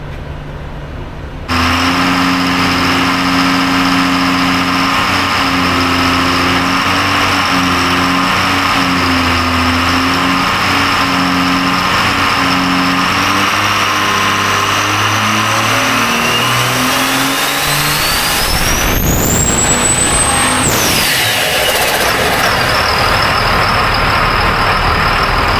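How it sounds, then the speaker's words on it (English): A truck engine starts and runs steadily after new fuel injectors are fitted, a loud continuous mid-pitched drone with shifting harmonics, then a brief surge of revving near the end before settling back to idle. "we're going to fire the truck up and we're going to do a run on it"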